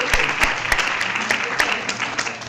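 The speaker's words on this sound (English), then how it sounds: "Applause for my helpers today." Applause from a conference audience during a presentation at EuroCALL in Valencia, a dense steady clapping with some louder individual claps standing out, continuing evenly throughout.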